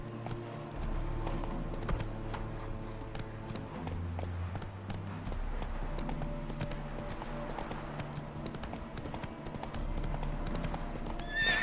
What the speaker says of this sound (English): Come on, Roach. Run, Roach.